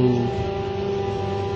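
A treadmill running with an unpleasant droning hum, a loud steady tonal drone held close and continuous throughout, with no voices over it.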